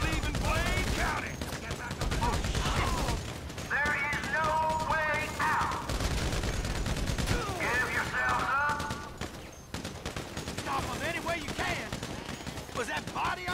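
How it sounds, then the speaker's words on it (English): Heavy sustained gunfire rattles throughout a shootout in Grand Theft Auto V's Paleto Score setup mission in Blaine County, loud overlapping volleys running continuously while several voices shout and talk over the shots. "Come on, keep firing!"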